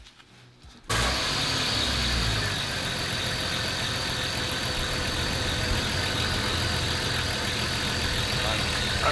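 A 1994 Jeep Grand Cherokee, just fitted with a new fuel pressure regulator, cranks and catches after a second of quiet, then settles into a steady close idle, with people talking nearby.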